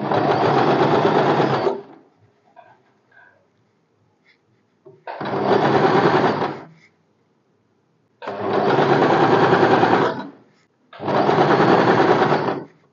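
Sewing machine stitching piping onto a blouse, running in four loud bursts of rapid mechanical stitching separated by near-silent pauses, close up and with no talking.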